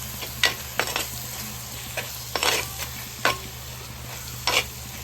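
Tomato pieces stirred into a mutton curry in a pot, with scraping stirring strokes at irregular intervals over a low steady simmer, close and moderately loud, no talking.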